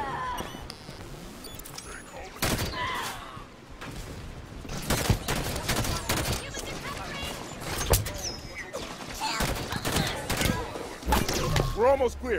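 Gunfire during a combat mission in the Halo 5 video game, with sharp shots and bursts cracking repeatedly over a dense battle mix, under voices talking throughout.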